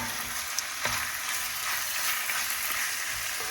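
Beef pieces coated in potato starch fry in hot oil, a steady close sizzle and crackle with a few faint clinks of stirring, no voices.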